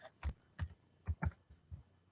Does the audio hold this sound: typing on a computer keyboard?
yes